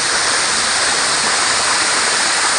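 Gembleng Waterfall in Sidemen, Indonesia, roars as a loud, dense, constant rush of falling water heard close up, with no pauses and no speech.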